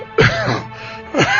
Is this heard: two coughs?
yes